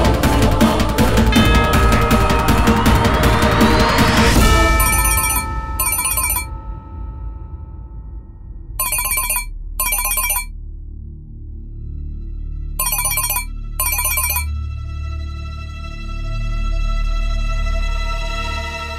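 A telephone ringtone plays loudly at the start. After that come several separate bursts of bright trilling rings, each pair set apart by quiet, over a low background hum.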